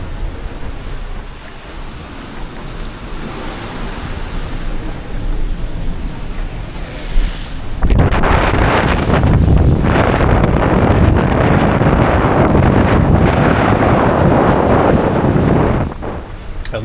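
Heavy wind of over 30 knots roars across the microphone on a sailboat over rough, crashing sea waves, growing louder and more turbulent partway through, with no voices.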